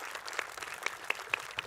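An audience applauds at a live event, with steady clapping from a crowd, some sharper nearby claps standing out over a dense, moderately quiet wash.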